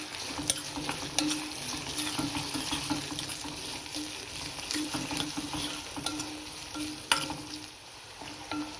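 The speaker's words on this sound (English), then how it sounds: "So I'm going to add the onion and let it fry on a medium flame" Steady sizzling of onion frying in a pan over a medium flame, with occasional stirring scrapes and clinks over a constant crackling hiss.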